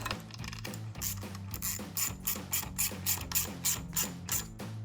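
A ratchet with a 13 mm socket tightens a bolt on a Body Armor 4x4 Ambush XT front bumper for a 2017-2022 Ford F-250, clicking in rapid repeated bursts, close and loud.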